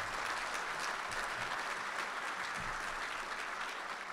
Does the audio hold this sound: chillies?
no